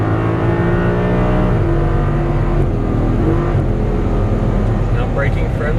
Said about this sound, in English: squeezing on the throttle as you're unwinding the wheel to that exit on that left side, then all the way to the orange again